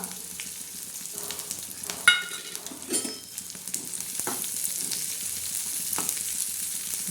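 Chopped onion hitting hot oil for a usal tadka, a soft continuous sizzle with a sharp clink near the start and a few utensil knocks, quiet and close, no talk.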